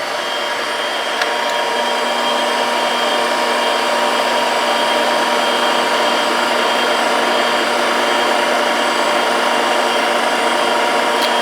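A lathe runs at 130 RPM while cutting a thread, giving a continuous, loud, even mechanical whir that holds steady throughout with no speech.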